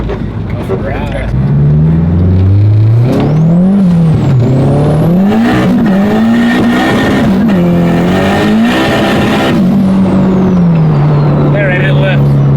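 A 600 whp tuned Honda Civic roars under full throttle, engine pitch sweeping upward through the gears with loud intake and exhaust noise from inside the cabin, while people talk over it.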